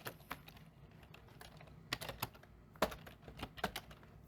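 Keys on a computer keyboard being pressed while a password is entered, a quiet scatter of irregular taps that bunch into a few sharper clusters, close and alone with no talk.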